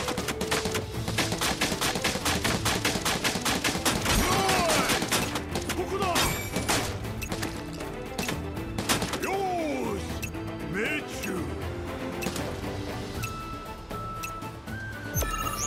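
Rapid bursts of gunfire in Final Fantasy VII Rebirth rattle continuously over a dense backdrop of game music and effects, loud and unrelenting throughout.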